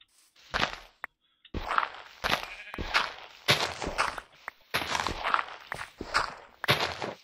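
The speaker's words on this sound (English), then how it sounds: "Okay, that's a sheep." Sheep bleating in the Minecraft video game, several short bleats in a row mixed with footstep sounds, fairly close and alone without speech.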